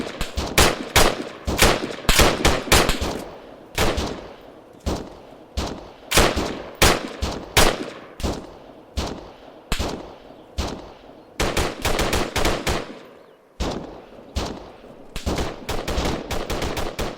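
Rapid bursts of rifle and machine-gun fire crack out during squad combat training, loud sharp shots in clusters and single reports with short gaps, some echoing, continuing throughout.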